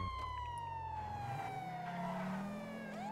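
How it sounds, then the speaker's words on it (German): An emergency vehicle siren wails loudly and continuously, a single long sweeping tone gliding slowly downward then rising again, close and alone with engine rumble underneath. "Mach mal die Sirene an, das ist ein Notfall."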